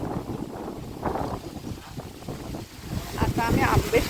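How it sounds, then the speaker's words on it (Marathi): Strong wind gusts through a Konkan village in heavy, buffeting rushes with microphone rumble, surging louder toward the end; a voice is faintly present. "खूप जोरात वारा सुटला आहे."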